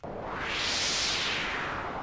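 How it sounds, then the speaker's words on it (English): A synthesized rush of filtered noise in FL Studio with a resonant sweep that rises and falls like a gust of wind, steady and alone. "sounds more like wind"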